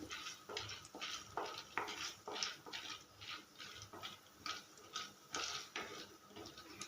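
Chana dal roasting lightly in a pan of oil left from sautéing, a steady soft sizzle broken by repeated scraping stir strokes, close and fairly quiet, with no talk.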